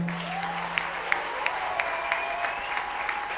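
A church congregation applauds together during a fasting service, a dense steady patter of many hands clapping with a few louder rhythmic claps on top, while a sustained tone hums underneath.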